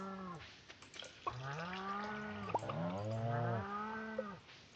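Cows in the farming video game Stardew Valley giving several long, clear moos one after another, loud and close, with a few soft clicks between calls.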